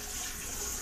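Kitchen tap water running while something is rinsed during holiday cookie baking, a brief steady hiss of flowing water, faint and without speech.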